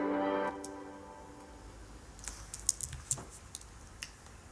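Keyboard typing sound effects in a video editing tutorial, starting after a brief tonal sound and coming as a quick, irregular series of light, crisp clicks and taps.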